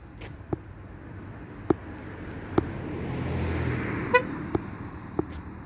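Short horn chirps from a car being locked with its key fob ring out one at a time at irregular intervals over a quiet outdoor background hum.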